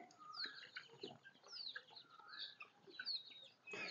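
Local chickens cluck and call inside a newly built coop, a quiet scatter of short clucks and higher calls spread across the whole stretch.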